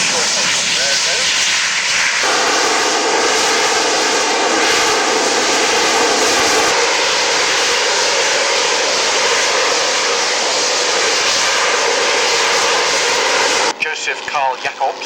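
A jet with vectoring nozzles performs at an air show, its engine giving a loud, continuous roar that holds steady for most of the pass before cutting off sharply near the end.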